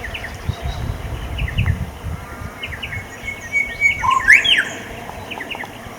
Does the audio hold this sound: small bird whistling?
yes